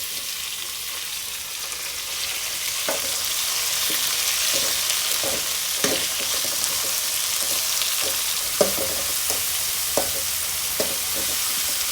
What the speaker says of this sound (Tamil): வெங்காயம் தக்காளியும் நல்லா ஓரளவுக்கு வதங்கிடுச்சு